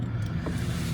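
Car engine starting from cold: a loud, steady low rumble with a rough, throaty texture, heard close and alone for about a second.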